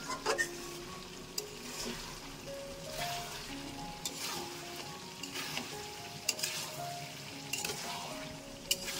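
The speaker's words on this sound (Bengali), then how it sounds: "এই যে দেখো, এবার এটা যাতে তলায় লেগে না যায় তার জন্য ভালোভাবে এটা নাড়িয়ে চাড়িয়ে নিচ্ছি।" Mutton curry frying and being stirred in a pot, with a steady sizzle under scraping spoon strokes and occasional clinks against the metal, close and moderately quiet with no talking.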